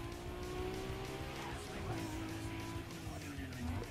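Car engine in the Need for Speed Underground 2 racing game, a steady droning rev that rises and falls through the gears over continuous game sound, with occasional tire noise.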